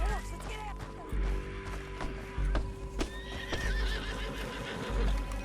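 In Red Dead Redemption 2, a horse neighs loudly up close while heavy galloping hoofbeats pound in bursts, with some speech mixed in.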